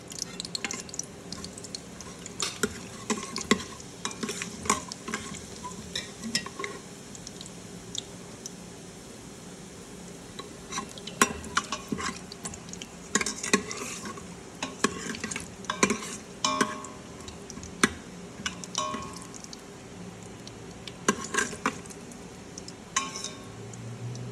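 Cumin seeds sizzle steadily in hot oil for a Punjabi aloo rajma dish, with frequent scraping stirs and small crackles throughout, close and moderately loud, no talking.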